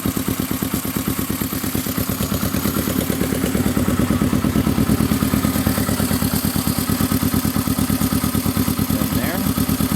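A brand new engine in a 1971 Honda running warm, with a fast, even loud thumping idle that speeds up slightly midway and continues steadily.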